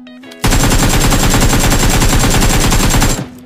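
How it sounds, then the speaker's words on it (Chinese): Rapid, continuous machine-gun fire from a shooting video game: a dense, loud burst of automatic shots lasting about three seconds, then stopping abruptly. "刚才我听见这边有枪声"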